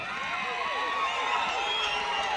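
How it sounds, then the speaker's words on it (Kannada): A large audience claps and cheers loudly and steadily at an outdoor public event announcing a film on Immadi Pulakeshi, with crowd noise filling the whole moment. "ಅದಕ್ಕೆ ಜೋರಾದ ಚಪ್ಪಾಳೆ"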